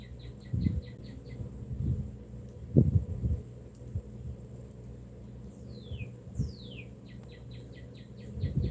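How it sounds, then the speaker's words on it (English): Small birds chirp outdoors near a campfire, with short repeated high calls in quick bursts and a couple of sliding whistles, fairly faint against low rustling and soft bumps close by. "I hope you can hear the birds."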